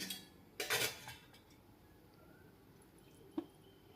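Bael fruit juice is tipped from one cooking pot into a bigger pot, with a clattering metal clank and splash, a few lighter clinks, and a sharp knock near the end in a quiet kitchen.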